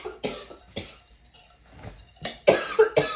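A series of close coughs and throat-clearing bursts, several light ones early on and then a louder cluster of harsh coughs toward the end.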